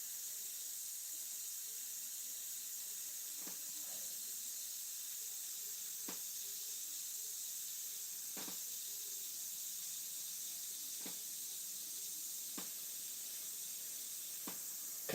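A steady, high airy hiss of an airbrush spraying paint in a home painting studio, running continuously at moderate level with a few faint clicks scattered through it and no voices.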